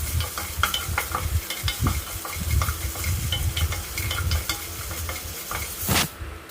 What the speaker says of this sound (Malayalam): വെണ്ടയ്ക്ക അരിഞ്ഞതിൻ്റെ കൂടെ കുറച്ച് ഉപ്പും കുറച്ച് മഞ്ഞൾപ്പൊടിയും കൂടി ഇട്ട് ജസ്റ്റ് ഒന്ന് വഴറ്റിയെടുക്കാം